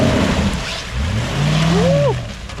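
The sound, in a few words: UAZ Bukhanka V8 engine revving off-road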